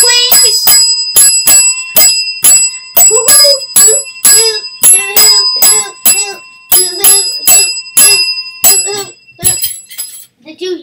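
A bell rings repeatedly in quick, bright dings, close and loud, in irregular bursts over about ten seconds.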